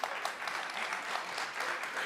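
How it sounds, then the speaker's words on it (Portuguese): Audience applause in a TV studio show, a steady dense wash of many hands clapping at even loudness throughout, with no talk over it. "um forte aplauso para sua coragem e valentia"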